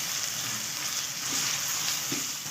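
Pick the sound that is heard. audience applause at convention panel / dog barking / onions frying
onions frying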